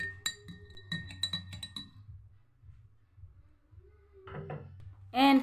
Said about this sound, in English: this is the time you add 1 teaspoonful of honey and stir